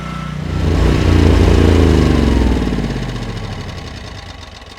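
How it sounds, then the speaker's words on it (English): A small gas engine on a generator sputters and dies after its fuel is turned off: a loud, uneven running rumble that knocks, falters and fades away to quiet. "Turn off the fuel and it'll sputter and turn off here in a minute."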